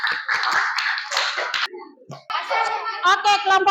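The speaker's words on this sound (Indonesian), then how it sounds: "Oke, aplaus per kelompok 1." A classroom group claps for group 1 in a short burst of hand clapping mixed with children's voices and chatter, close and lively.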